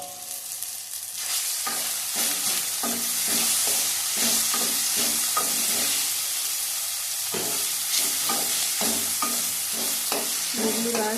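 Garlic cloves fry in a pan and are stirred steadily: a loud, continuous hissing sizzle with a rapid series of scraping, clinking spatula strokes, close up and with no one speaking.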